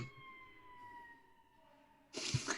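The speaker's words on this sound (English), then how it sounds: "Stupid sirens." Emergency vehicle siren wailing faintly in the distance with slowly falling tones, cut off by a sudden loud burst of noise at the end.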